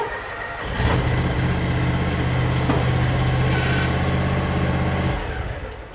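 A Ventrac tractor idles steadily while its hitch arms are raised. The engine hum is low and even, starting about a second in and cutting off near the end, with no talking.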